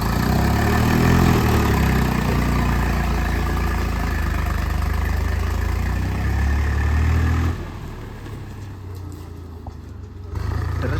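Farm tractor engine running at idle: a steady, loud, low rumbling drone close by that dips noticeably quieter near the end before picking back up, with no voices.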